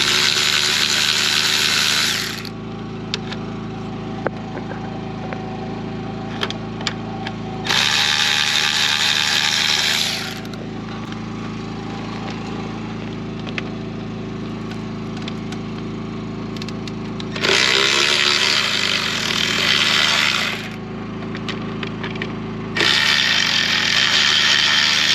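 A power tool whirs in four separate bursts of a few seconds each while removing radiator fan bolts on a Can-Am Ryker, loud and close, with quieter clicks and clanks in the pauses between.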